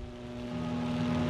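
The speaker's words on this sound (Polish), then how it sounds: "te samoloty hałasują" Steady droning WWII fighter plane engines from the game 303 Squadron: Battle of Britain, Hurricanes or Spitfires, a continuous propeller hum with a strong low tone that swells slightly louder over the short stretch, with no talk.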